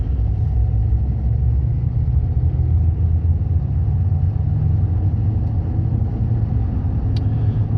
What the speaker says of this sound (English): it's got some tire noise from the 35s that are on it